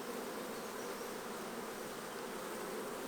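Honey bees in a hive brood box make a steady, dense buzzing drone that holds unbroken throughout, close but soft, with no voices.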